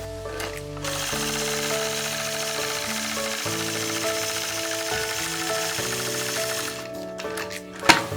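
A domestic sewing machine runs steadily while free-motion quilting a melon motif with a 4-N-1 ruler on a nine-patch quilt, its close, continuous mechanical hum holding for several seconds before stopping near the end.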